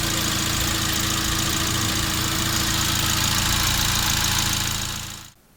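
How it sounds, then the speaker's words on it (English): A car engine runs steadily just after an oil, oil filter and air filter change, a constant close idling drone with a faint knock that continues evenly before fading out abruptly at the end. "let's run the engine first"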